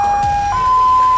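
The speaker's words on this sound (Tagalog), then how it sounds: "Kalaunan, may dumating naman daw na ambulansya." An ambulance siren wails loud and close, a steady tone that steps up once in pitch partway through, with faint traffic noise beneath.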